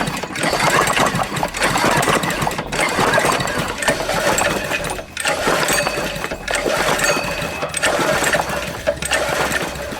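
A modified T196 go-kart's small engine, spark plug removed, turns over again and again by starter cord in a rough, rapid mechanical chatter, loud and close, with brief pauses between pulls.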